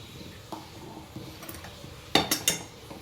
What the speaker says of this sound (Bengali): এবার আমরা ভালো করে নেড়ে নেব।